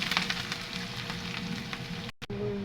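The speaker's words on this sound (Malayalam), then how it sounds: "അതിലേക്ക് നമുക്ക് ഇഞ്ചിയും കറിവേപ്പിലയും എല്ലാം കൂടി ഒന്ന് പൊട്ടിക്കാം" Ginger and curry leaves with mustard seeds splutter in hot oil, a dense, close crackling sizzle that holds steady before a brief abrupt dropout near the end.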